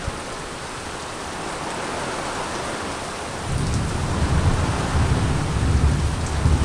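Heavy rain pours steadily during a storm in Kerala, with a deep rumble of thunder swelling in about halfway through and lingering loud beneath the dense hiss of the downpour.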